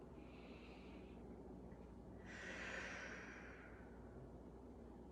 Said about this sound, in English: Good, big inhale.